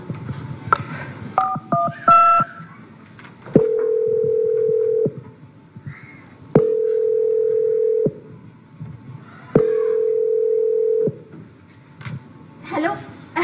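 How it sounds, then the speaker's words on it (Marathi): A landline telephone is dialed with a quick run of keypad tones, then three long, steady ringback tones follow at even intervals, loud and close, in a Marathi-language children's stage drama. "अमनच्या आईला फोन लावून बघू का?"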